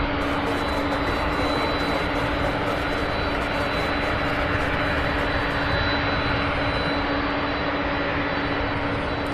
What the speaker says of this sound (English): Another Boeing 767.